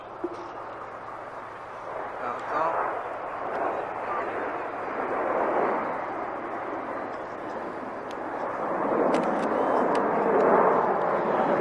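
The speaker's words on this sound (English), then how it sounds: "Andy returns with all 9 aircraft in close formation to perform the Angel Quarter Clover" Nine aircraft fly in close formation at the Kemble Airfield airshow, a steady broadband roar that swells and fades slowly, loudest near the end, with a voice faintly under it.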